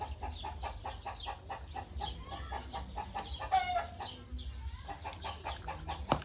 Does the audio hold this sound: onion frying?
no